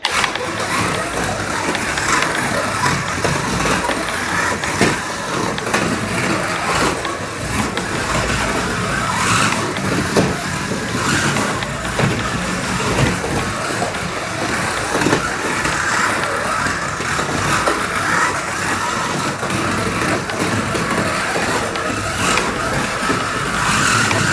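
An Alfa GTA slot car, a RevoSlot model, running laps on a test track, with a steady loud whirring motor and tyre hiss continuing unbroken throughout.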